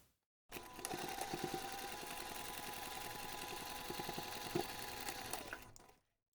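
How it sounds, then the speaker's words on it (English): A sewing machine stitches the sides of a zipper pocket onto bag lining, running steadily for about five seconds at a close, even hum with light rhythmic needle ticking, then stopping. "you're going to stitch the pockets along both sides"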